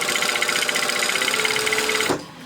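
A sewing machine stitches a skirt seam in a steady, fast, even whir of needle strokes that carries loudly for about two seconds and then stops abruptly.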